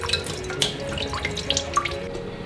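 Chicken rinsed under a running kitchen tap, a steady close stream of water splashing into a sink with small irregular spatters throughout.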